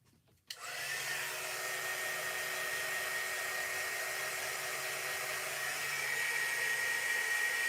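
A blow dryer switches on after a short quiet moment and runs in a steady, loud, whooshing drone while drying a fall-themed craft sign, with no one talking.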